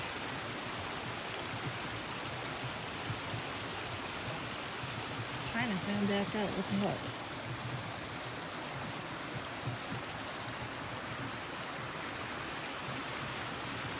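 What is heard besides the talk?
water flowing in Swamp Creek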